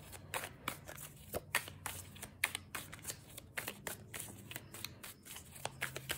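A deck of cards is shuffled by hand in quick repeated riffles and snaps, close and crisp, with short pauses between bursts.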